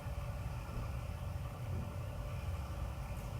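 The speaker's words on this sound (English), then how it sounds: "That truck sound hungry." A truck engine rumbles low and steady, a close, continuous idling drone with a slight pulsing throb and no talk over it.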